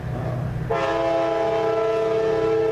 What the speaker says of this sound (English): And we get the train coming through the Waxhaw.